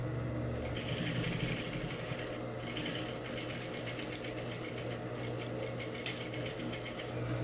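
A sewing machine stitches along a seam line while making a welt buttonhole-style pocket, a fast continuous mechanical chatter that stays steady and close for the whole stretch.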